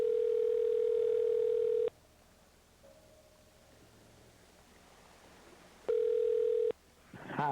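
A telephone rings back twice on the line while the call goes unanswered. Two long steady tones are separated by a quiet pause, and faint rustling follows.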